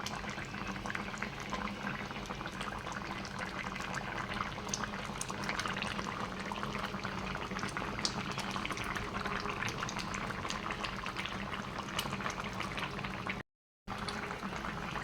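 Curry gravy with ground ginger, cumin and coriander bubbles steadily in a pot, a dense, continuous boiling hiss and sputter that carries on alone.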